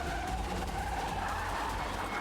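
A car brakes hard and skids with a drawn-out tire squeal over engine noise, fairly faint and continuous for a couple of seconds.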